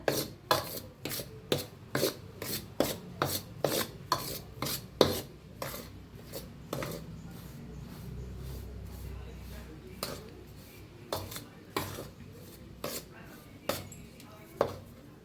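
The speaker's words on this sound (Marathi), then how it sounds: "थोडंसं थंड झालं का नाही हाताने मिक्स करायचं छान असं" Rice ladoo mixture is worked with ghee by hand in a bowl, making a fast run of sharp rubbing and tapping strokes. These slow to sparse, softer scrapes, and the sound stays close and dry.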